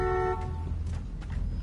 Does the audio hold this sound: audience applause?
no